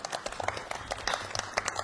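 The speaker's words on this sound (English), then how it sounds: "Arjun's going to lead us in clapping." Faint, sparse group clapping from a small devotional gathering at Yatra Puri 2023, separate hand claps pattering unevenly for a couple of seconds at a distance.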